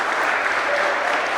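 An indoor audience at a handball event claps in thanks, a brief dense burst of steady applause from many people close by.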